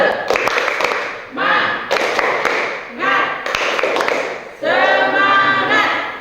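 A classroom of students performs a rhythmic group clap routine, sharp claps and desk taps in bursts alternating with children chanting in unison, close and loud.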